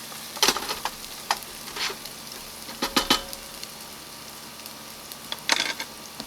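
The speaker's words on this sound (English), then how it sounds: "I'm gonna cook these onions until they're a little bit caramelized" Onions frying in a pan outdoors until caramelized, a soft steady sizzle under a few sharp scraping stirs and clinks of a utensil against the pan.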